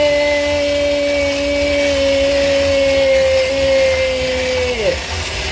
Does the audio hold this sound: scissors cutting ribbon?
no